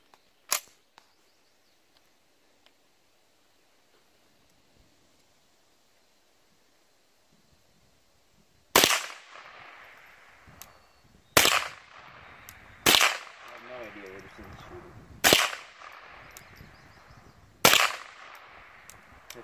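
Six sharp .22 Long Rifle gunshots ring out at uneven intervals after a long quiet stretch, the rounds fired at a rifle scope, each crack loud and close with a short decaying tail.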